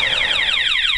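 A Spy 5000m motorcycle alarm on a 2008 Honda Goldwing GL1800, set off by its shock sensor, sends out repeated falling electronic siren sweeps, loud and close, with a brief low thump at the end.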